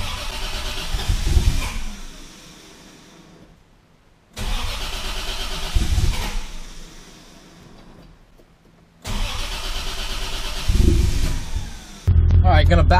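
A Toyota Supra engine cranks three times in long whirring bursts of about two seconds, each trailing off with a pause, without catching, and ends in a brief louder burst.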